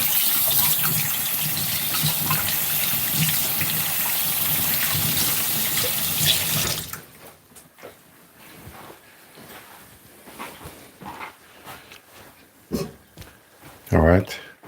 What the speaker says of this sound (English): I'm gonna wash my hand off quickly.